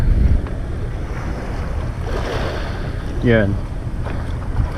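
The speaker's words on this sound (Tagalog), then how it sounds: "para mag-transfer ako, magbabangka ako" A small boat rocks on the sea at night before a spearfishing dive, with wind buffeting and waves slapping around it and a brief spoken word.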